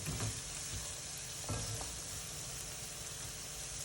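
Carrots and onions fry in a pan for a ragu sauce, a faint, even sizzle with a couple of soft stirring knocks, heard without any talk.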